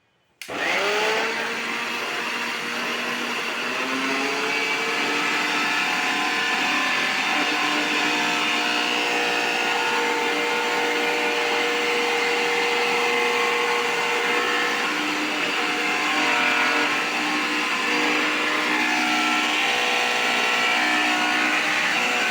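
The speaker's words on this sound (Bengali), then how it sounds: "আর তারপরে আপনাদের আবার আমি ব্ল্যান্ড করে দেখাইতেছি" An electric blender, a low-cost kitchen model, whirs steadily and loudly for the whole stretch after a sudden start, its motor tone holding a constant pitch with no voices.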